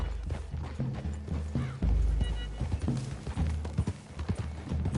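Horse hooves clip-clop at a walking pace over uneven ground, with creaking tack and rustling close by; no one speaks.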